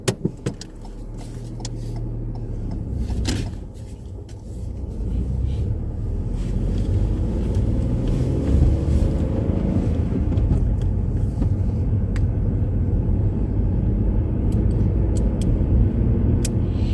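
Car driving on a road during a mock driving test near Chertsey: a steady, close interior engine and road rumble that builds as the car pulls away and then holds, with some wind noise and a few clicks over it.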